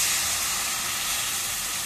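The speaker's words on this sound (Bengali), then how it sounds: "এখন তেলের মধ্যে দিয়ে দিই।" Ground spices (chili powder, salt, cumin, garlic and onion paste) tipped into hot oil in a home kitchen, giving a steady, loud, bright hiss of sizzling that holds evenly throughout with no talk.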